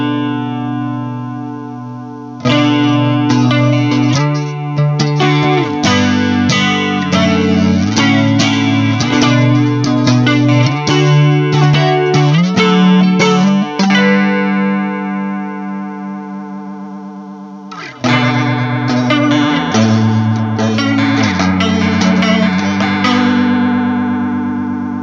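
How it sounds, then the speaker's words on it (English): Guitar played through a chorus effect as its LFO rate is turned up faster and faster: loud chords and picked notes with a swirling, wavering shimmer, ringing out and pausing briefly before another passage. "as we start to turn that rate up, we're going to take that LFO and make it quicker and quicker"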